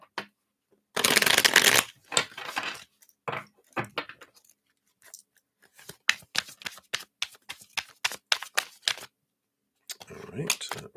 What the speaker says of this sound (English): let's give that a shuffle here.